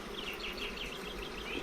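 Honey bees drone steadily around an outdoor hive during an inspection, a dense, continuous buzz with no pauses or voices.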